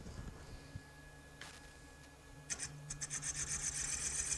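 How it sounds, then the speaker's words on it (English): Sandpaper rubbing a turned blackwood lid spinning on a wood lathe, a steady raspy hiss that starts after a few quiet seconds and builds in short pulsing strokes, close, with no talking. "Now I'll sand that up and make it look good."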